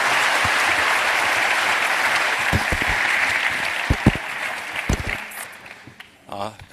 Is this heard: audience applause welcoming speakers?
yes